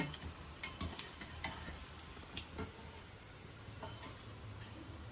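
Idli batter bondas frying in hot oil over a lowered flame, a soft steady sizzle with light taps and stirring clicks from a spoon against the pan, fairly quiet and close.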